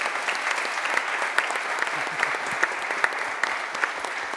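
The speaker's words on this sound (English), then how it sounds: "Please give them a round of applause." Audience applause for a panel discussion at a talent and industry event in Coimbra, a dense steady clapping that stays loud and even throughout, with a few sharper individual claps standing out.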